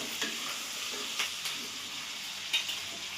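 Beans and green chillies with capsicum fry in a pan with a steady broadband sizzle, a few brief clinks or stirs punctuating it, fairly faint and with no one speaking.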